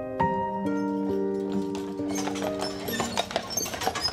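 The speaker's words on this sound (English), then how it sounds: "I see these people pull up on the horse taxis" Hooves of a horse-drawn taxi clip-clop on Mackinac Island, a run of close, sharp hoof strikes over a held musical tone that fades, joined by busier ambient noise later on.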